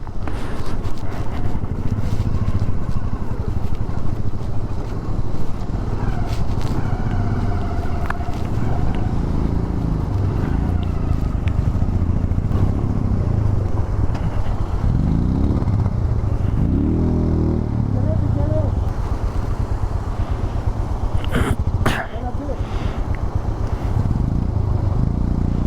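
A motorcycle rides through a small water crossing in the Spiti valley on a Manali to Chandratal trip, its engine drone steady and loud throughout with wind buffeting and a brief splashing surge midway.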